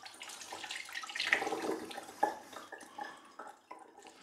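Mineral water poured from a bottle into a bowl holding lemon juice and fish sauce, a steady trickling stream with a few sharper splashes, close and moderately quiet.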